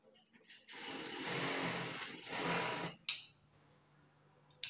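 A sewing machine stitches fabric in a tailoring session, running in a steady whirring burst for about two seconds, then stopping, followed by a sharp click and faint handling noises.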